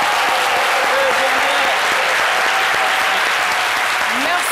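A studio audience applauds at a Senegalese midday television show, sustained dense clapping filling the whole stretch, loud and close, with no break.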